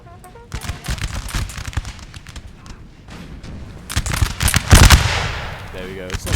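Musket volleys crackle in a Napoleon: Total War multiplayer street battle for Dresden, dense ragged bursts of gunfire, loud and close, building to a heavier cluster near the end amid battlefield din.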